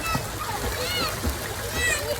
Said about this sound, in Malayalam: അപ്പൊ എല്ലാരും പൂളി ചാടാൻ വേണ്ടി വന്നിട്ടാ